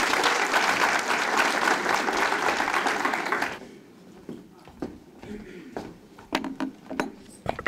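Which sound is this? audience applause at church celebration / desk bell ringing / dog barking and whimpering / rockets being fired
audience applause at church celebration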